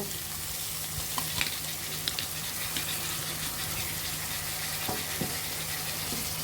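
Chopped onion and tomato stir-frying in oil with whole black cumin seeds for a mola fish bhuna, a steady broad sizzle with scattered light clicks of stirring, close and even, no voices.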